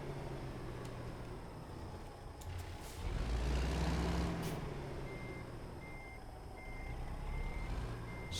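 A truck backs up toward a big trailer, its reversing beeper repeating at a steady pace in the distance over a rumbling engine and hiss from the cab.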